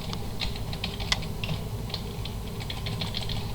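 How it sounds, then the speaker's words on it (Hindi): Rapid typing on a computer keyboard with irregular clicks of keys, one sharper press standing out, close and clear over a low steady hum, with no voices. "अब अगर मुझे कुछ चीज़ चेंज करनी है मैं इंसर्ट की प्रेस करूँगा"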